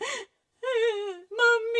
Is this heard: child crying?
yes